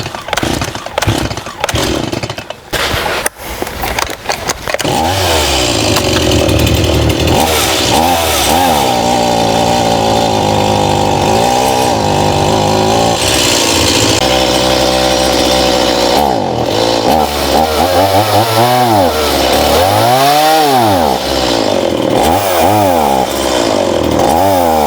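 A Stihl MS170 chainsaw runs on a workbench with a carburetor fault that makes it bog. After a few rough, sputtering catches it settles into a loud, continuous drone that sags and wavers as the engine bogs down and picks back up.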